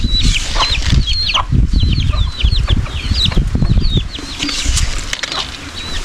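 Close and loud, a fleeing chicken clucks and squawks repeatedly while its wings flap in bursts during the chase, without any speech.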